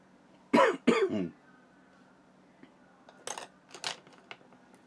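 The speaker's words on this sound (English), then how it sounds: "Sorry that I'm coughing." Two sharp coughs close by, followed by faint clinks and light tapping sounds in a quiet room.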